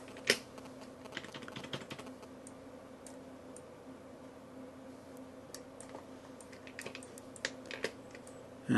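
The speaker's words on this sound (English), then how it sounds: "just holding space on the keyboard and click and dragging with the mouse" Computer keyboard keys and mouse buttons click while an image is edited in Photoshop Elements, giving scattered soft ticks and a few quick bursts of typing at close range over a faint steady hum.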